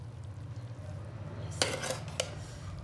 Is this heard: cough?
no